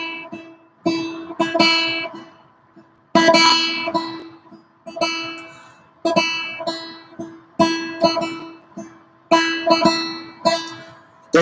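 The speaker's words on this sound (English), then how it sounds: "Let's say we're doing our tremolo and it sounds a bit lopsided." Electric guitar tremolo picking played unevenly, with rapid picked notes bunched in lopsided bursts and separated by brief decays, bright and close with no talking, in a repeating rhythmic phrase over about eleven seconds.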